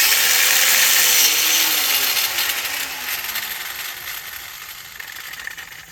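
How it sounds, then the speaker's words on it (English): A small grinder sands fiberglass in preparation for an epoxy patch repair, giving a loud, continuous abrasive whine and hiss that gradually fades over several seconds. "you can use a small grinder like this."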